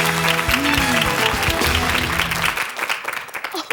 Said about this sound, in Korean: 박수 좀 쳐주십시오.